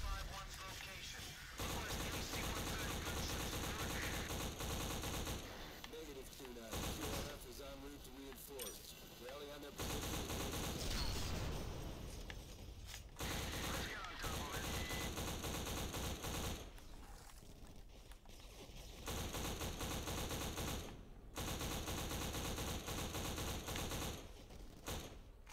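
Rapid automatic gunfire and explosions from the first-person shooter game Black, loud dense bursts separated by brief pauses, with scattered voices talking during the quieter gaps.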